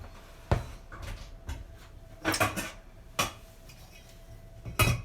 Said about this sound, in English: I'm just going to put a lid on that so it cooks a bit quicker